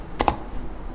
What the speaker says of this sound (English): on your keyboard, basically what you need to use is Shift Enter